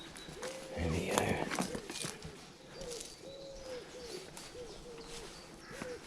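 Pigeons coo softly in a repeated rhythm with a few small chiffchaff calls nearby, plus brief rustling footsteps on a woodland track in a quiet outdoor setting.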